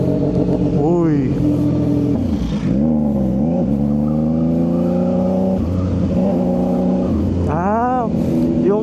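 CFMoto 675 NK motorcycle engine revving while riding, loud and close with rising and falling pitch through throttle blips and a steady pull, wind and engine filling the background while a rider talks.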